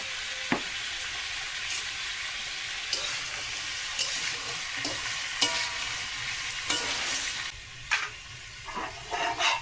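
Pan-frying with turmeric and salt in a pan gives a steady, moderate sizzle, with scraping strokes of stirring at irregular intervals and no talking.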